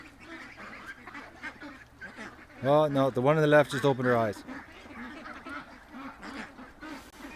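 Several ducks break into a short, loud burst of quacking midway through, while someone talks quietly before, during and after it.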